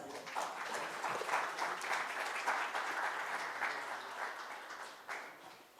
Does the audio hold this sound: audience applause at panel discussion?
yes